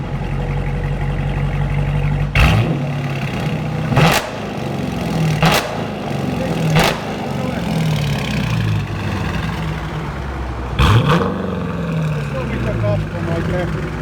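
A Dodge Challenger R/T with the 5.7L HEMI V8 and stock mufflers revs repeatedly from idle, giving about five loud, sharp throttle blips with a deep exhaust note that settles back to a rumbling idle between bursts, while people talk nearby.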